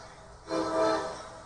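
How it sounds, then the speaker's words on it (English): A commuter train passes at a rally site, its horn sounding as a sustained, rising blare over a low rumble that swells for about a second, then eases, with no talk over it. "And here comes the train"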